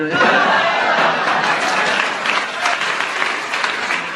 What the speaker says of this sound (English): Because the audience clapped and they enjoyed what you did